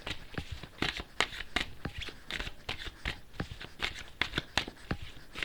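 Tarot cards being shuffled by hand in a tarot reading, a steady run of close, crisp riffling flutters and soft slaps repeating for several seconds with no talk.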